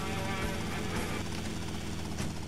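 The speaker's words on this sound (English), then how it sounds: "another very own chopper" Helicopter in the video game Grand Theft Auto: Vice City, a steady low rotor drone that stays fairly quiet and continuous for the short stretch.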